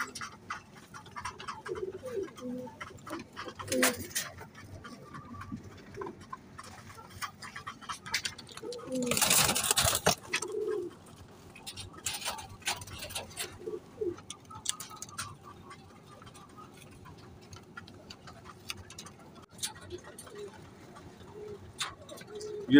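A breeding pair of pigeons, grey, spotted and red domestic birds, coo softly in a loft, with low repeated calls, a burst of wing flutter and scattered clicks while someone talks in between.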